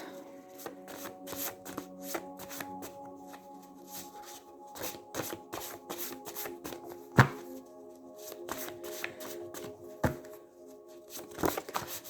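Tarot cards are shuffled and drawn by hand in a quiet room, a run of dry riffling flutters and soft slaps with sharp card snaps scattered throughout, close and alone.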